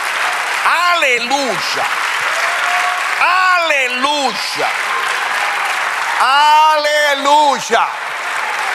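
A church congregation claps at length during a service, the applause running under voices that repeatedly call out in loud, sung bursts.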